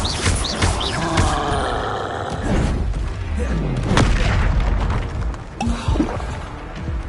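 Confringo blasting-spell explosions from the Hogwarts Legacy video game on PS5: a run of heavy booming bursts with rumbling tails, loud and close, stacked over a busy battle soundscape.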